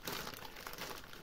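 Thin plastic shipping bag holding a 7-inch Mark 4 FPV quadcopter frame being crinkled and handled up close, a continuous dense crackle of rustling with no speech.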